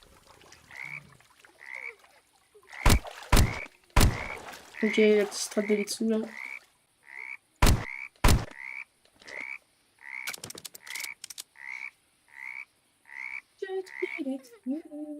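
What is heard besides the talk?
frogs croaking by ponds in a video game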